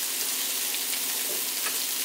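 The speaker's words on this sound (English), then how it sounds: "We're just going to let that sizzle for a few minutes." A beef roast sizzling in a hot pan, a constant crackling hiss with small pops, close and fairly loud, no voices.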